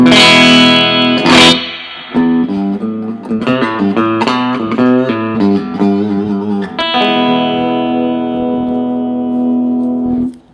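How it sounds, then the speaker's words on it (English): An electric guitar plays chords and a short riff through a practice amp's reverb, notes ringing out and trailing off with a washy tail. "First thing over here on the right is your reverb."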